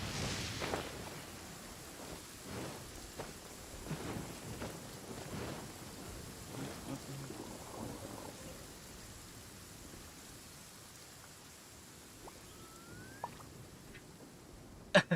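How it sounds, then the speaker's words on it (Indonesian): Rain falls with low rumbles of thunder in Genshin Impact, a soft, even wash of rain with faint distant thunder rolls, fairly quiet throughout. "Hujan."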